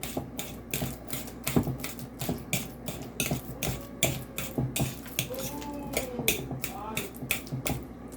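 Ripe bananas are mashed in a bowl for banana bread, producing repeated wet squishing and the clatter of a utensil against the bowl in a steady rhythm, close up, with a voice talking over the mashing.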